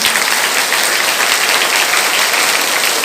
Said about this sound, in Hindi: इनके नाम पर तालियां बजा देने के लिए